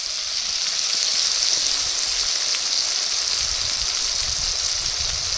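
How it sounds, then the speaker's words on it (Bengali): Leafy greens fry in oil with plenty of garlic, a continuous, even sizzle close by with no talking. "শাক ভাজায় একটু বেশি করে রসুন দিয়ে দেবো"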